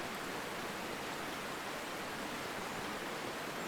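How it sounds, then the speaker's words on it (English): Flowing water in the video game Call of the Sea, a steady broadband rush like a nearby stream or small waterfall, constant and unbroken throughout. "and we're hearing water"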